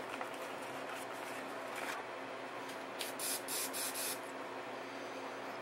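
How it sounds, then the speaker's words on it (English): NeverWet waterproofing spray hisses from an aerosol can onto an electronic speed control in quiet, close bursts, with a few brighter spurts near the end. "And that's what we'll be doing next, is spraying NeverWet."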